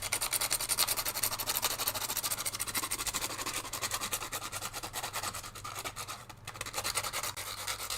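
Sandpaper rubs against a loose watercolor Christmas-tree painting, making a quiet, continuous scratchy rasp close up with a brief pause partway through.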